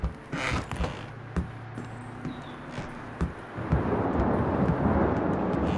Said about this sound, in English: the rain and the thunder sounds nice